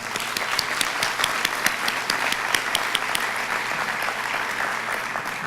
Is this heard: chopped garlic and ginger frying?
no